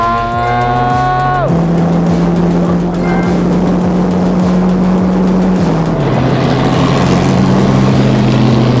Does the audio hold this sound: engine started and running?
yes